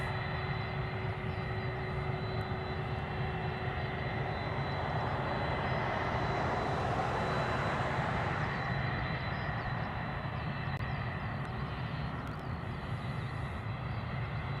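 A Delta airliner departs Honolulu airport, its jet engines a continuous broad roar that swells gently toward the middle and holds steady throughout, heard from a distance with no talk.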